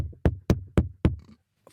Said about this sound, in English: Suddenly, there's a knock at the door.